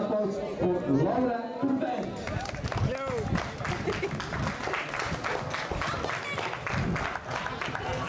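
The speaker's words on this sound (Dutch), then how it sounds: "En dames en heren, een welverdiende applaus voor Laura." Crowd applause for a women's winner at a Flanders cup cycling race in Beringen, sustained outdoor clapping and cheering beneath someone talking over a public address system.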